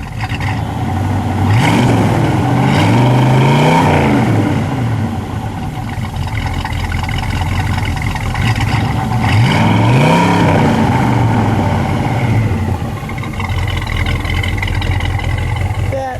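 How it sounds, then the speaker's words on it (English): A white 1967 Dodge Dart 270 with a 273 V8 idles with a deep rumble, then revs up and falls back twice, loud and close. "That is a wonderful rumble, isn't it?"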